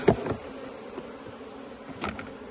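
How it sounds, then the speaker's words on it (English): Honey bees buzz close by in a tray, a dense steady hum with a few louder bursts as individual bees move about. "We gather a scoop of bees."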